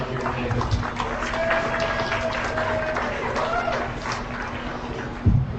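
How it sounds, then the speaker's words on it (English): Audience applause at a county fair dairy parade, a steady spread of clapping from a crowd at middle distance over a constant background hum, holding evenly for several seconds before a brief bump near the end. "Please put a big round of applause together for our 8 here today."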